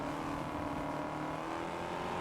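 Engine of a Ford Mustang sports car in the racing game Test Drive Unlimited Solar Crown, a steady loud drone with constant engine hum throughout and no speech over it.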